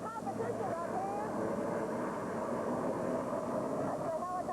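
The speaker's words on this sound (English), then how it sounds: "That's the helicopter headed towards the JFK where President and First Lady are tonight." A helicopter flying overhead during a 1986 Liberty Weekend broadcast, a steady broad engine and rotor rumble holding at a constant level throughout, with faint voices beneath.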